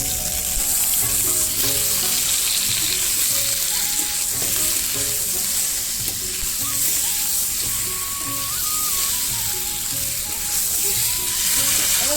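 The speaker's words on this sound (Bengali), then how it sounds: "আমি আলু আর মশলাটাকে ভালোভাবে কষিয়ে নিয়েছি" Boiled potatoes and spices sizzle and fry in a pan for a Bengali egg curry, with a steady loud crackle throughout and occasional stirring scrapes.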